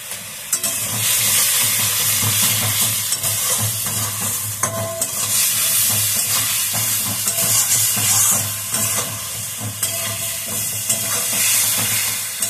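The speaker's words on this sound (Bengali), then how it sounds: "এটা একটু ভালো করে কষানো হোক" Cumin and turmeric powder sautéing in a pan, a steady loud sizzle and hiss with scraping stir strokes throughout, no voices.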